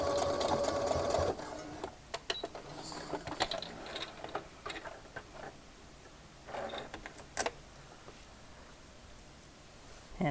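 A sewing machine back-stitches a sweater seam at the start of a stitch line, its steady mechanical whirring and clatter running close and continuous, with a brief louder burst at the beginning and short pauses later.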